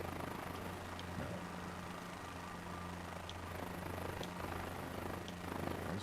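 A helicopter engine in a flight simulator game drones steadily with a low, constant hum and whine throughout, at a moderate level, with no talking.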